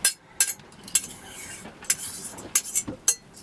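A spatula scrapes and clinks against a cooking pan aboard a sailboat, a series of short, sharp metallic scrapes and taps spaced irregularly over quiet background.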